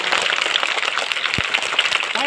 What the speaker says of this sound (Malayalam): ഒരു കൈയടി, വലിയ കൈയടി.